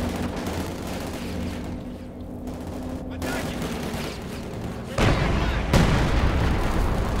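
Sturm Panzer IV tank gun fire in Company of Heroes 2, heard as booming shots with sharp bursts near the end over a steady rumble of battle noise and distant gunfire.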